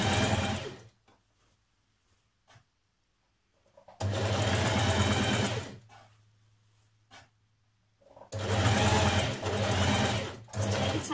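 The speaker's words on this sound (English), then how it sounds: "So just below that line of stitching that you've done already." Home sewing machine running seam stitches on a ladies' shirt in two loud bursts of rapid mechanical whirring, separated by quiet pauses with small handling clicks.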